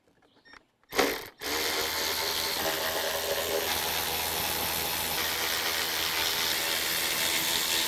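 A ratchet with a deep socket clicks rapidly and steadily while removing engine parts from a 1986 Honda 4x4, following a brief clatter of tools, continuous and close.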